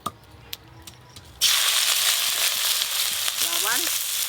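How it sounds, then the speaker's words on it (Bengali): Shrimp, cumin and ginger hit hot mustard oil after a few quiet ticks, bursting into a loud, sustained sizzle that stays strong and close to the end, with no talking. "জিরে, আদা, চিংড়ি মাছগুলো ভেজে নেবো"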